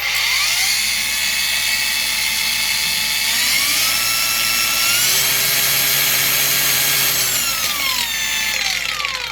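Avhrit 20V brushless 4-1/2 inch angle grinder running free, a loud, steady high-pitched whine that shifts speed a few times, heard alone without talk.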